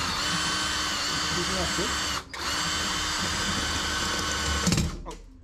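Steady high-pitched whine of a power drill drilling close by, briefly stopping and restarting, with a voice speaking over it before the motor cuts out at the end.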